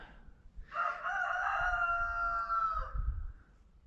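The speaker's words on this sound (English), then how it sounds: "that rooster" A rooster crows once on a farm that also raises bison, a long loud call rising and holding for about two seconds, close by, over low wind rumble.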